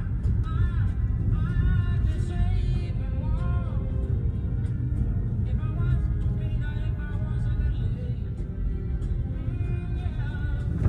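Rivian R1T electric truck rolling along a snowy trail at night, a steady low rumble of tires and drivetrain with faint creaks, continuous and close throughout.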